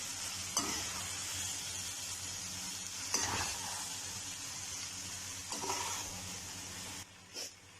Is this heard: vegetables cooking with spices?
yes